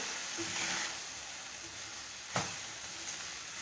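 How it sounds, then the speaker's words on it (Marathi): Soaked rice gently sautéed in a pan for white vegetable pulao gives a soft, low sizzle with light stirring and one brief scraping clatter, quiet and close with no voices. "तांदूळ सुद्धा आपण अर्धा मिनिटभर परतून घेऊया अगदी हलक्या हाताने परतायचे आहेत"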